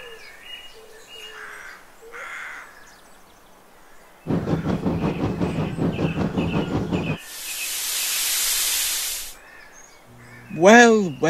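A steam train chuffs along rails in a rapid, even series of loud, rhythmic beats lasting several seconds. Birdsong and chirps are heard before it, and a burst of hissing steam follows.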